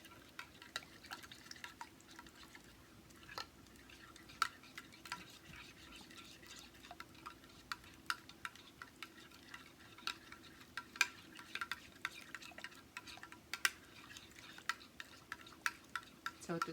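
A hair mask is stirred in a bowl with soft, quiet scraping and scattered light clicks of the utensil, repeating irregularly over a low, steady background hiss.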